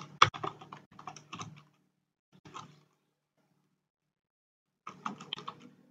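Bursts of computer keyboard typing while C/C++ code is entered, quick clustered keystrokes with a pause in the middle, close and fairly clear with no talking.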